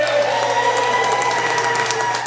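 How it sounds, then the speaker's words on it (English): A crowd applauds and cheers continuously at the opening ceremony for Irving Fire Station 4, under a tonal ceremonial sound and steady claps. "Irving's Fire Station 4 opened to roars of applause"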